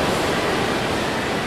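A vast flood of water pours into a cave and engulfs the people inside, a dense, loud, steady roar of rushing water with no pauses.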